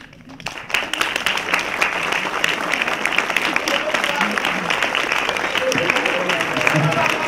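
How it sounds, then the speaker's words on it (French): An audience at an evening event applauds the mayor as he is introduced, a dense burst of clapping that starts sharply and carries on steadily, with voices mixed in. "Je vous demande d'applaudir monsieur le maire"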